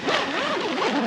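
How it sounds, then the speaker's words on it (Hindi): A tent door zipper is drawn shut in a single quick pull at a winter forest campsite in Pakistan. The rasp is close and clear, with no talk. "पहले ज़िप बंद दें, इसको बंद कर दे आराम से।"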